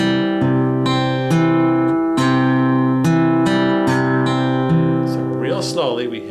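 A slow three-finger Travis-style fingerpicking pattern on acoustic guitar, single notes plucked in an even rhythm and left ringing, with a voice starting to speak near the end.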